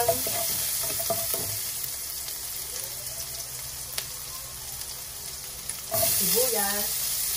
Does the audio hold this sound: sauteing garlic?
yes